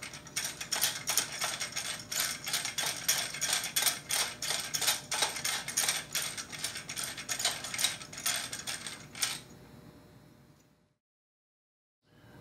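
Large thumb wheel on an Orion Monster parallelogram binocular mount tripod being screwed tight from below, giving a rapid, steady ratcheting click for about nine seconds, close and fairly loud, then stopping into silence.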